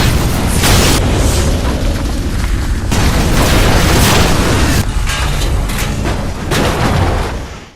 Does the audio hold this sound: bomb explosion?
yes